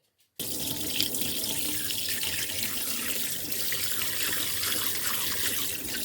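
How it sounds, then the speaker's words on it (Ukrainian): Herring being rinsed under a running kitchen tap, a steady close gush of water into the sink that starts abruptly and continues loud and even to the end, with no voices. "Зараз оце все вимию під краном водою"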